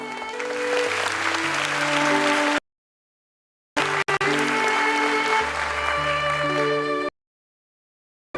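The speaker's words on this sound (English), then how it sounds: "Please give a big round of applause." Audience applause at the Boao Forum for Asia youth forum in Hong Kong, a loud, dense sustained burst with tonal music underneath, cutting off, then resuming for a second long stretch.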